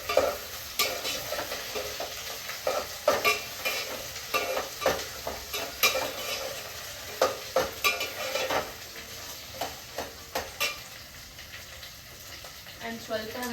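Vegetables fry with turmeric in a pan to a steady sizzle, broken by repeated rhythmic scrapes and clacks of a spoon stirring, close and fairly loud.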